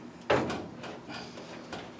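Car door swung open and shut to check steering column clearance during a steering box mount job, a sharp thud near the start followed by fainter knocks and rattles in a quiet workshop.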